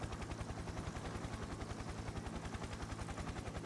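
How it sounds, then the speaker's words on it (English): A helicopter in Persona 4 Arena Ultimax thumps overhead with a fast, steady rotor beat that stays loud and close throughout, no speech over it. "Sorry, trying to shout over the helicopter."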